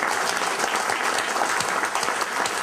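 An audience applauds at a 2014 municipal election debate in Bladel. The clapping is dense, steady and loud, and it fills the whole stretch without a break and with no talk.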